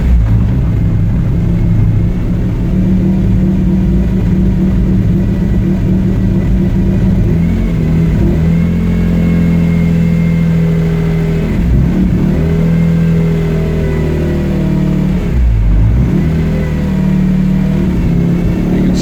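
A BMW S54 engine runs steadily at idle during a VANOS advance-and-retard test, its loud, continuous mechanical drone dipping briefly in pitch a few times, with no voices.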